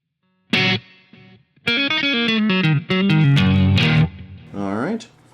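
An electric guitar played through the BIAS FX amp software with reverb and delay sounds loud and close, with plucked single notes and ringing chords, a bend near the end and an echoing tail.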